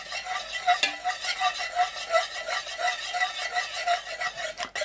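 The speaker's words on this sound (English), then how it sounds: "When you add your dye, keep stirring." Dye being stirred into melted candle wax while making pillar candles and wax melts: a steady, rhythmic scraping swirl of a utensil against the pot, close and continuous, with no voices.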